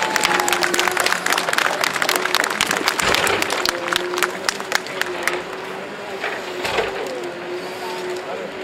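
Outdoor crowd at a timber-loader championship applauding a competitor, dense sustained clapping that thins over several seconds while a steady engine drone continues underneath.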